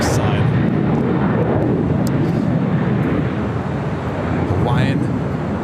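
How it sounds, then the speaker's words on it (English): A Cathay Pacific airliner takes off at Los Angeles LAX: a loud, sustained jet engine roar fills the scene, with radio chatter over it. "Cathay Pacific number 3 for takeoff on the south side"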